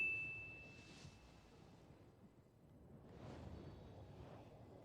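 A bright bell chime rings during a wish in Genshin Impact, a clear ding that fades, followed by a softer shimmering swell a couple of seconds later, faint and without voices.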